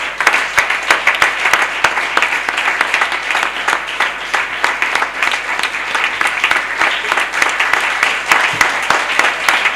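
A church congregation at a Sunday service applauds to the Lord: many hands clap in a dense, sustained wash that stays loud and even throughout, with no pause.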